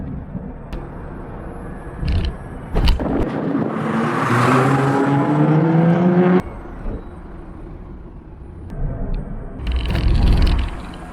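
Modified Wuling Mango mini EV lapping the Tianma circuit, its electric motor whine rising in pitch as it speeds past under wind buffeting, with tire and road noise before and after the pass.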